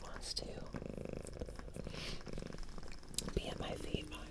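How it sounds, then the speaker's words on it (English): Dolce, a pet cat, purrs up close in a steady low rumble, with soft whispering over it and a few small clicks. "I figured I'd bring her up for a purring sound for you."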